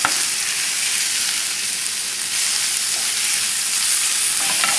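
Shrimps frying in browned basil garlic butter while being constantly stirred, a loud, dense sizzle that holds steady throughout with faint spatula scrapes.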